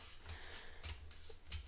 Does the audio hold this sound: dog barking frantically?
no